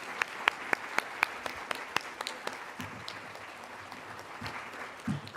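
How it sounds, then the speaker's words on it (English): Scattered audience applause at a civic club panel event, with several sharp individual claps standing out near the start, then thinning out into a softer, sparse patter that fades over a few seconds. "Let's give them all a round of applause."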